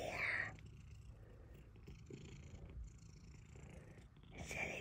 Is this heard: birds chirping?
no